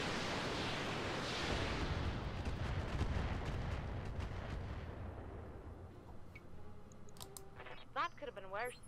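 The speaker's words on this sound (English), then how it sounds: "That's a lot of rocket launchers." Rocket launchers firing in the Roguetech mech video game: a dense, loud rumbling barrage of blasts for several seconds that thins out, followed by short high electronic chirps near the end.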